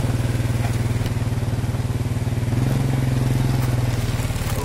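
A small motorbike engine runs close by with a steady, rapid putter, revving slightly higher partway through, with no talk.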